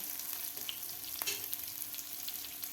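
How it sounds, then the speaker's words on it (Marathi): Green chillies and ginger fry in oil in a pan for masala toast, a faint, steady sizzle and crackle with a few soft scraping stirs and no voices. "आपल्याला हे मिरची आणि आलं व्यवस्थित फ्राय करून घ्यायचं आहे"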